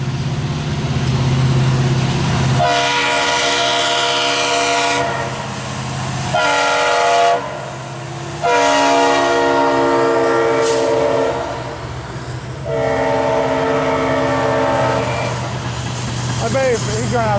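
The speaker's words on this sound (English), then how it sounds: "It's definitely a cool train. Two engines on this." A train pulled by two locomotives rumbles past with a steady heavy low drone, while loud horn blasts sound repeatedly in long bursts over the top.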